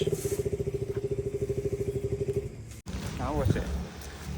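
A motorcycle engine runs with a steady pulsing rhythm close by as it is ridden into a house, then cuts off abruptly; a voice speaks briefly afterward.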